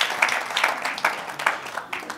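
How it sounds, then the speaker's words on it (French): Audience applause at a student academic excellence event, bursts of hand clapping from a modest crowd, moderately distant, fading and recurring over a couple of seconds. "Et je veux qu'on applaudisse pour eux, s'il vous plaît."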